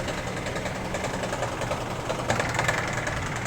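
Tank-type air compressor running for a foam wash setup, a close, steady motor chug with a rapid knocking pulse and a slight rise in intensity toward the end.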